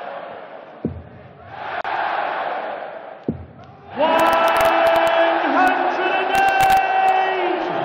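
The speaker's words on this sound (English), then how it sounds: "You can hear what the crowd thought of it." Darts tournament crowd at the German Darts Grand Prix in Bavaria erupts into loud, sustained cheering and whooping after a throw, following a quieter murmuring stretch with a couple of sharp thuds.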